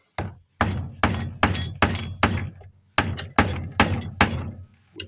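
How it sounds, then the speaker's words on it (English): A hammer strikes to set a rivet, delivering about a dozen loud, ringing metallic blows close up in two uneven runs with brief gaps between them. "With our hammer."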